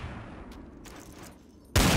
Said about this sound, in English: Machine gun suppression fire on snipers is just horrible.